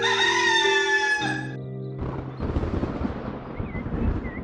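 A rooster sitting in a field in an animated children's fable crows once, a loud, drawn-out harmonic call lasting over a second, followed by rustling background noise.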